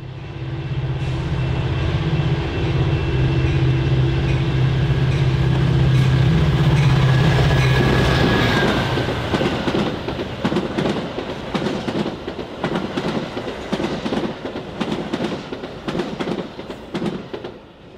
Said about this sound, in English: Train 1271 here is one of those, now running express to their final stop at Aurora